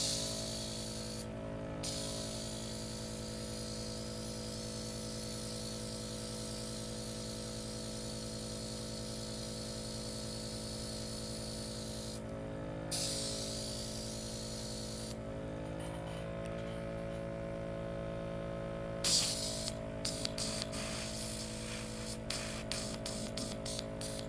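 An old, misbehaving airbrush sprays paint with a constant hiss over a steady compressor hum, broken by short dropouts and sputters as the spray cuts in and out, close and fairly quiet.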